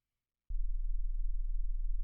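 After a brief silence, a low pulsing electronic tone starts abruptly and continues steadily; it is made of clean sine waves multiplied together by a custom Max MSP external, with a faint click at the end.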